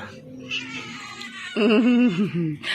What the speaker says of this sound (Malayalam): നീ എന്തിനാടി പൂച്ച ഡുണ്ടുവിനെ കണ്ട് പേടിച്ചോടിയ നിനക്ക് നാണം ഉണ്ടോ